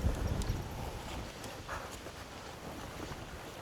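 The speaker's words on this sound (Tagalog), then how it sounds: "Lintik na hangin guys." Strong gusty wind buffets a campsite, roaring and rumbling heavily against the microphone with no voices over it.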